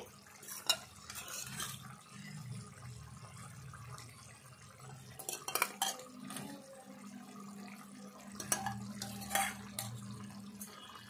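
Fried eggs stirred into a tomato egg curry in a pan, with quiet scraping of a spoon against the pan, occasional clinks and wet stirring sounds, close but fairly soft and without speech.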